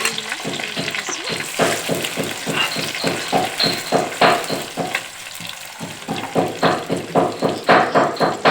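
Onion, ginger and garlic hit hot oil for a local chicken curry, a loud close sizzle broken by a rhythmic run of stirring scrapes in the pan, the frying hiss swelling and easing with each stroke.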